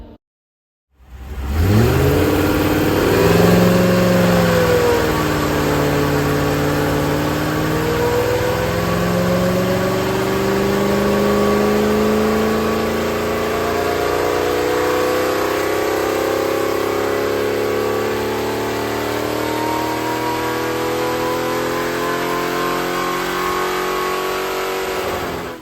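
Rover V8 engine in a Rover P6 fitted with an SD1 airbox, revving loud and close after a quick start, its deep harmonic tone rising and falling before settling into a steady high drone for the rest.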